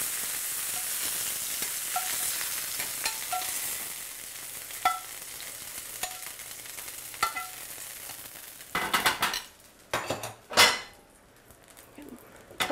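Cooked venison and its pan juices are scraped from a pan into a bowl over a low sizzle, with scattered metal clinks and scrapes and a few louder clattering knocks near the end.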